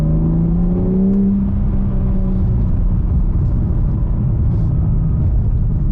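A BMW M4 Competition accelerating hard, a loud low engine roar rising in pitch at first then settling into a heavy sustained rumble and whir from inside the car.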